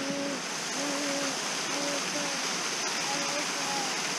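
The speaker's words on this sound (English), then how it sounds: "What do you think of the waterfall" A mountain waterfall rushes as a steady broadband roar throughout, with a person talking over it intermittently in the foreground.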